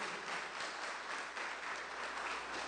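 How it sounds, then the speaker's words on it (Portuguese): A church congregation at a Friday service applauds in a dense, steady wash of clapping that holds evenly throughout, with no voices over it. "dê uma bela salva de palmas para o Senhor Jesus"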